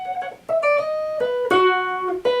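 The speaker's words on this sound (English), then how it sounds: "Without the bends, the run sounds like this." Electric guitar run played straight without bends: a quick sequence of clean, sustained picked notes stepping between pitches, close and clear.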